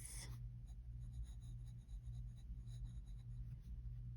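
A fountain pen loaded with Sailor ink writes on paper, a faint continuous scratchy scrape with small strokes, close but very quiet over a low background hum.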